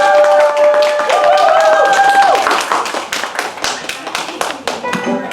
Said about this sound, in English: Give all your attention and a round of applause